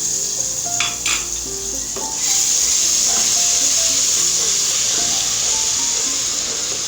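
Garlic ginger paste sizzles steadily in a hot pan, a bright constant hiss with a few clinks of a spoon stirring against metal near the start.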